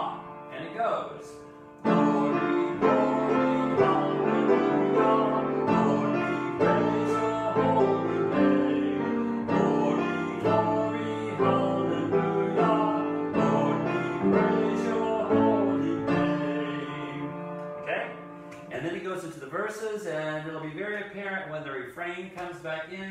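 Hymn accompaniment, likely organ or keyboard, plays a sustained harmonic introduction that leads straight into the refrain, full and steady throughout, with a softer, more broken passage near the end and no singing or talk.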